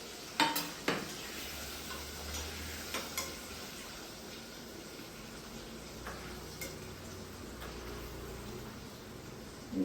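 Potatoes frying in oil with spices and a little sugar make a low steady sizzle, broken by a few sharp clinks and scrapes of a utensil against the pan, close by with no talking.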